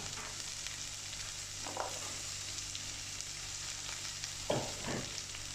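Chopped onions and green pepper frying in a pan for mini pies give a steady, fairly quiet hiss, with a couple of brief spoon scrapes as the vegetables are stirred.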